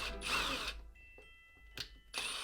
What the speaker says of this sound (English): I'm going to use my drill to drill 3 holes in